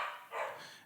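A dog barks in the background of an indoor movie-review conversation, a short burst of muffled, fairly faint barking with no talk over it.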